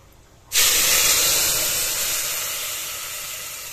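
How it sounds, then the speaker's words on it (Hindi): Turmeric, chilli and coriander tadka hits hot oil in a pot with a sudden loud sizzle that bursts in at once, then hisses steadily and slowly fades. "तेल मेरा गर्म हो रहा है, अब उसमें तड़का डाल देंगे।"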